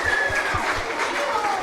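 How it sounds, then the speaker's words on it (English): Audience applause for a children's Christmas program, a brief burst of broad clapping from a crowd, with a voice over it. "let's give them a round of applause one more time"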